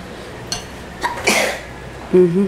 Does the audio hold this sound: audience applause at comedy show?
no